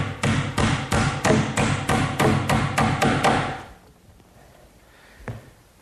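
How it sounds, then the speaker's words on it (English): A hammer drives 6-penny finish nails into an oak bathroom vanity frame with about ten quick, evenly spaced, loud blows, then stops, leaving quiet room tone and one faint knock. "I'll just secure that with some finish nails, 6-penny finish nails"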